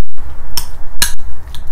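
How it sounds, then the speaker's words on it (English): Boiled potato being mashed with a spoon in a bowl, seasoned with salt, pepper and dry coriander, giving three sharp clinks of spoon on dish spaced apart over soft low scraping, close and fairly loud. "So I'm going to mash the potato, maybe with the spoon"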